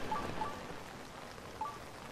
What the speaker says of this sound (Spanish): Asco de lluvia, tío.